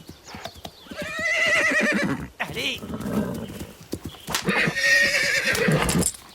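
A horse neighs loudly up close with hooves clopping, and a person shouts a short command over the whinnying.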